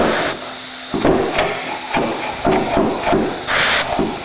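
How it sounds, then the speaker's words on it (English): A tool taps repeatedly on the carbon spar cap of a C-Kit aircraft wing, giving a series of close, sharp knocks at an uneven rhythm with no voices. "Oh, actually he's hitting the spar cap."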